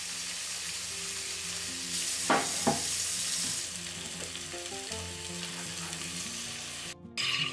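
Potatoes sizzle in sesame oil in a hot pot, a steady close frying hiss broken by a few stirring scrapes and clinks.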